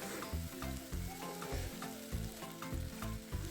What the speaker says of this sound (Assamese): আকৌ লৰাই অলপ ভাজি লৈছোঁ